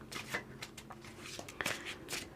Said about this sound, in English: so we'll give the cards a good shuffle then,